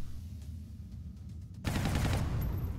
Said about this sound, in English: Can I do any damage with the stutter gun?